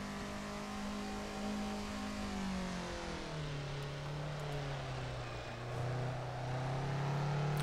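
A Japanese car from Assetto Corsa's Japanese Car Pack drones close up, its engine pitch sliding down through gear changes and climbing again as it re-accelerates out of a corner, with no talk.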